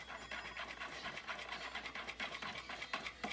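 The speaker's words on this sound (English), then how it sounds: "And you want to whisk that up." A whisk beats a thick creamy chicken and stuffing casserole mixture in a bowl with quick, steady rhythmic scraping strokes, close and fairly quiet.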